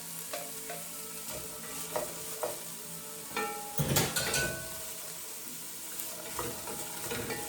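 Carrots and celery sautéing in a pan, a soft steady sizzle broken by occasional scraping stirs and clinks of a utensil against the pan, close and moderately quiet.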